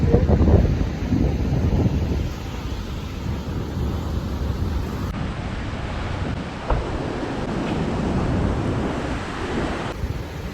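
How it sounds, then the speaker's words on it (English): Ocean waves roll onto a beach in Gujarat, a continuous broad surf roar mixed with wind buffeting the microphone, steady and fairly loud with no voices. "So here I am at Jalandhar beach and see how this place looks."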